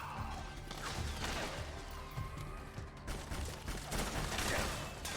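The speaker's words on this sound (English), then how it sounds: "Who's shooting me?" Rapid bursts of gunfire and crashing impacts from the stealth action game Metal Gear Solid 4, loud and dense throughout with sharp repeated cracks over a busy background.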